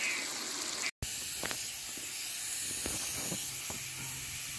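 Spices roasting in desi ghee give a steady, fairly loud broadband hiss with faint crackles and pops scattered through it, broken by a brief near-silent gap early on.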